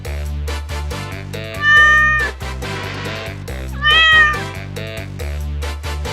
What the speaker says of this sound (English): What animal makes this sound?